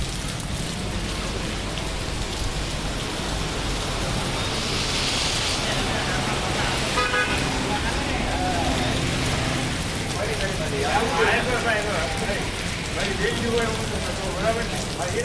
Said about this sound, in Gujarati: લાઈવ વરસાદ શરૂ તળાજા